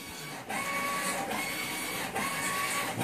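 A shirt printing machine runs in a small print shop, giving a continuous mechanical whir with a few brief dips as it cycles; no one speaks.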